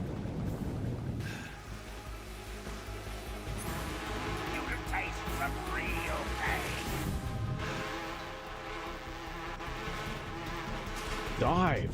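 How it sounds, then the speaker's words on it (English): Swarm of hornets and bullet bees in the Metal Gear Solid 3 video game, a continuous dense buzzing drone mixed with game effects and music, rising to a louder burst near the end. "Watch out for insect-based attacks, especially his so-called bullet bees."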